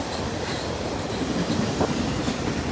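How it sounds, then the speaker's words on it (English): An exo commuter train passes Dorval station with a loud, continuous rumble and rattle of wheels on rail, close and steady throughout, with no talking. "Ooh, a pretty loud train too."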